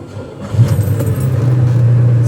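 A 1982 Ferrari 400i GT with a five-speed, cold, cranks and catches, then settles into a strong steady low idle that stays loud and close to the end.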